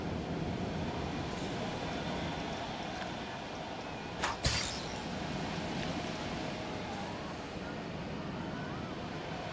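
Trains running in a tropical theme park in the video game Planet Coaster 2: a steady rumbling wash of rolling carriages with a brief sharp clatter midway, continuous and moderately loud.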